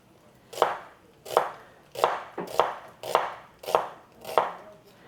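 A knife slicing cooked food into strips on a cutting board, heard as seven crisp, evenly spaced chops, close and clear with no talk.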